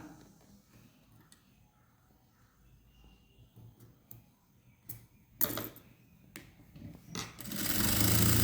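A sewing machine stitching an A-line kurti runs in short bursts of rapid mechanical clatter, starting faint and growing louder toward the end, with a few soft handling sounds between runs.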